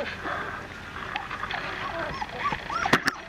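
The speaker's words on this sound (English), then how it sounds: "Some of Tess puppies coming out to play." Several Vizsla puppies whimper and yip in short rising whines, a couple of sharper yelps near the end, over a soft rainy outdoor background with faint talk.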